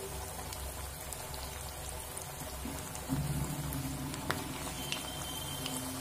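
Cabbage pakoras frying in hot oil, a soft, continuous bubbling sizzle with scattered crackles and pops, fairly quiet and steady throughout.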